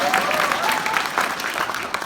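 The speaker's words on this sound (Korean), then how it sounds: "큰 박수로 환영하시죠" A crowd applauds to welcome Incheon's metropolitan mayor during a visit to Gyeyang-gu, a dense, steady round of clapping at moderate volume that carries through the whole moment without a break.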